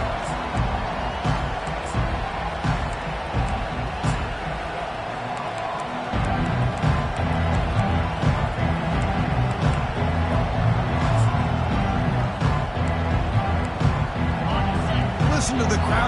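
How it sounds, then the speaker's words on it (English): A stadium crowd at a Clemson football game keeps up a steady, dense roar that swells slightly partway through. A commentator talks over it throughout. "Listen to the crowd energy here in the early going."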